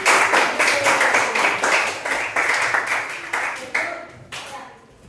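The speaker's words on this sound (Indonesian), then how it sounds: "Oke, tepuk tangan untuk pertanyaan." Classroom audience applause during an AI and coding training session, a burst of distinct hand claps in a loose rhythm that fades out toward the end, heard alone without talk.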